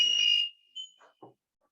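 A door interlock system alarm gives a short, loud electronic tone that cuts off abruptly, followed by a few faint clicks and small sounds in a quiet room.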